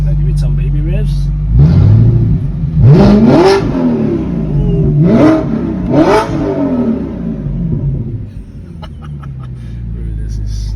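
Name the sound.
Audi R8 straight-piped engine revving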